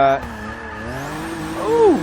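A BMW 850 CSi drifting in Forza 6, its engine droning steadily before a rising, bending tire squeal cuts in near the end, loud and close.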